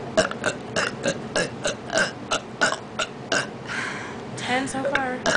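A rapid series of short burps during a burping contest, about a dozen quick bursts in a choppy rhythm followed by a longer, drawn-out belch, close and fairly quiet, with a voice mixed in.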